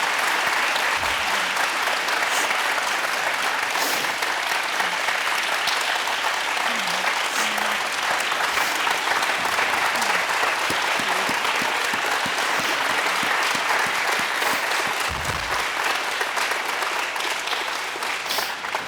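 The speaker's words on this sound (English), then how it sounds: "Can we give them a round of applause for their bravery and just their help?" An audience applauds at a conference closing session, sustained, dense clapping filling the whole stretch at steady loudness with no talk over it.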